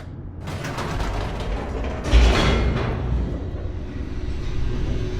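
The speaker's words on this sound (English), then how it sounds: "The elevator raced downward, plummeting towards an unknown fate." An elevator in the video game Stanley Parable descends with a mechanical rumbling and ratcheting, creaking drone that swells in a loud surge partway through and then settles into a steady hum.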